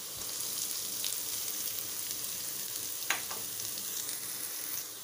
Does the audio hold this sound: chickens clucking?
no